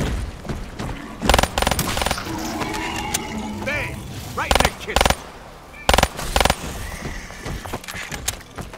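Gunfire rattles in Black Ops 3's Shadows of Evil zombies mode, with loud sharp bursts of shots repeating over a busy game soundtrack and other in-game noises.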